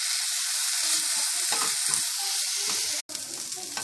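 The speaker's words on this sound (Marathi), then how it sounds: "आता मी याच्यामध्ये ही आलं लसूणची पेस्ट घालून ती पण परतून घेणार आहे" Ginger-garlic paste sizzles with browned onions in a pan for okra masala, a loud, dense frying hiss near the mic, briefly cut off for an instant before resuming, with no voices.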